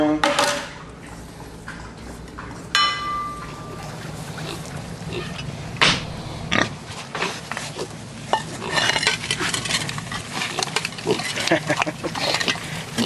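Pigs feed noisily on leftover tomato pulp, with scattered clangs and scrapes of plates and dishes mixed with grunts and snuffling, busy and close throughout while a person talks at times.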